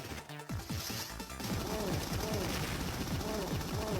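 Rapid shooting in the platform game Jazz Jackrabbit, a steady stream of repeated blaster shots with game music and effects, loud and continuous after a brief quieter start.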